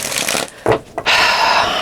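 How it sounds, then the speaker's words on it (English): A deck of tarot cards is shuffled by hand in a few quick, close riffling bursts with brief pauses between them, and no one talks. "Let's get a few more shuffles."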